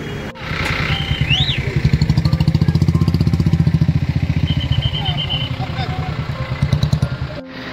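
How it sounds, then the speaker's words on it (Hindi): A motorcycle rolls up on a mountain road in Gulmarg, Kashmir, its engine close with a rapid, steady pulsing rumble that swells, then cuts off abruptly at the end. "सिकंदर सर पहुंच गए हैं बाइक पर"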